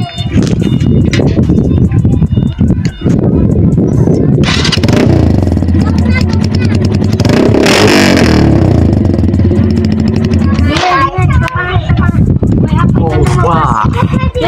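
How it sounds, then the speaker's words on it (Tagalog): A motorcycle fitted with a bullet exhaust pipe, a CR 152, revs loudly up close, rising and falling in gruff bursts with rattling exhaust pops, while people talk over it. "To sound check bullet pipe."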